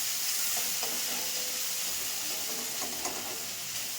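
A softened tomato is mashed into hot oil in a pan, giving a faint, even sizzle and hiss with a few quiet taps and scrapes from the utensil pressing it down.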